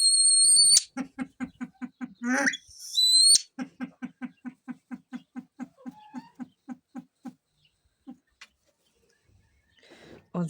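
A bird gives a long series of bright, evenly spaced whistled notes with a few higher trills, close and clear, then falls quiet near the end.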